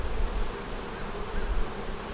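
Healthy honey bees crowd a hive frame, filling the air with a close, dense, unbroken buzz that stays loud and even from start to finish.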